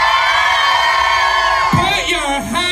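A festival crowd screams and cheers loudly in a sustained roar, whoops and shouts rising and then breaking up into scattered yells near the end.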